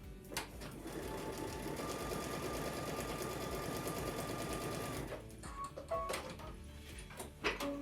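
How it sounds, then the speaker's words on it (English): A sewing machine runs in one long steady stitching burst through a fabric panel for about five seconds, close, then stops, followed by a few small clicks and handling noises. "we're going to sew on line number 2"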